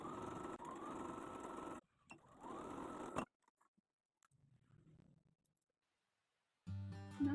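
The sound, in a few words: sewing machine stitching around a blouse neckline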